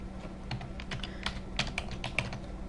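Steady typing on a computer keyboard while entering text into a Maple math worksheet, a run of quiet close key clicks with a few sharper taps, no talking.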